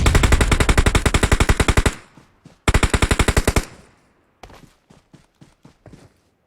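Automatic weapon fire from the mobile game PUBG Mobile on the Livik map: two loud, rapid bursts of gunshots, each lasting about a second, followed by a string of softer, spaced thuds. No one talks.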